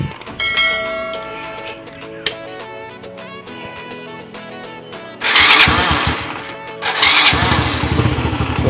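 Honda XRM motorcycle with a cracked piston being started and running, clattering and idling before revving louder in two bursts, close and loud.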